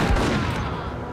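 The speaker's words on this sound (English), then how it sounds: "I'll try this gun." Gunfire from a weapon in the video game Max Payne, a dense burst of loud shots running together for about a second with a heavy low boom.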